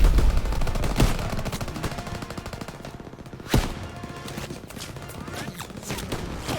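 Gunfire in Call of Duty WWII crackles in dense bursts of rapid shots, loud and close, with a few sharper single cracks standing out over the battle.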